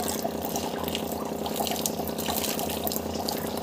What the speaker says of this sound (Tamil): தண்ணியும் வந்து பார்த்திங்கன்னா கொதிக்கிட்டு வந்து ஆரம்பிக்குது